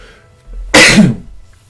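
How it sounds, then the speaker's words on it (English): A single sharp sneeze after a short intake of breath, loud and close, with quiet background otherwise. "I need to sneeze."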